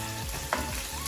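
Meat browns in a pan with a soft, continuous sizzle. A brief clatter of stirring cuts in midway, and there are no voices.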